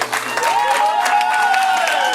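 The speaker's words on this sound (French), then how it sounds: "Nous allons les applaudir bien fort." A church congregation claps for a newly wed couple, a brief dense burst of applause with a sustained tone and some voices running through it.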